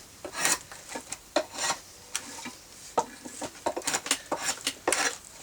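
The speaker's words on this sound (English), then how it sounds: "this particular draw knife I can turn over and to use it to smooth out a little bit more" A drawknife shaves and smooths a wooden rolling pin in irregular rasping strokes, each a short scraping burst with brief pauses between, close and clear with no talk.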